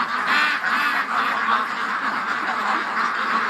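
A flock of ducks quacks busily as they leave their pen, with overlapping nasal calls in a steady, close chorus and occasional goose-like honks mixed in.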